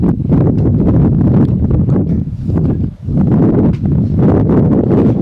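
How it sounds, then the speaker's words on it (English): Strong wind gusts roar across a microphone on a mountain top near a radio tower, a loud, steady buffeting that dips briefly before surging again. "The wind's kind of come up here."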